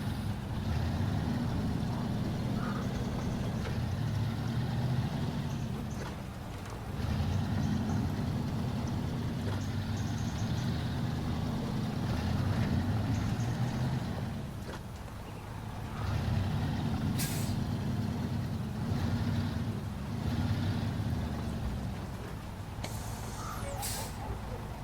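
A heavy truck engine in SnowRunner droning low and steady as the rig pulls away, its rumble swelling and easing in long surges, with faint clicks and short higher sounds on top.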